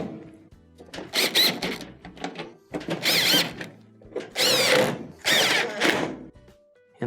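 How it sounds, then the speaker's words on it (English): A power driver runs 1/4-inch screws into the console of a GE dryer in four or five short whirring bursts with brief pauses between them, recorded close with no talking. "Reinstall the 1/4-inch screws around the perimeter."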